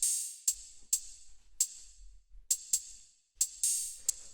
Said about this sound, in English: Next thing that we have here are these hi-hats